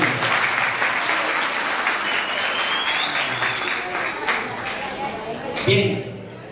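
Students in a school classroom give their classmates a round of applause, dense and loud clapping for several seconds that ends abruptly, with a few voices underneath.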